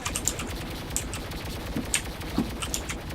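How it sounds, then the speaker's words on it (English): Team Fortress 2 Mann vs. Machine gameplay gives short, high, faint hit-sound dings that repeat at irregular intervals over a quiet background of soft clicking, with no talk. "wonder if that hit sound is a bit too annoying"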